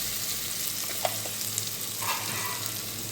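Ginger garlic paste frying in oil for bagara rice, a steady close hiss of sizzling throughout, with a few faint clicks of stirring.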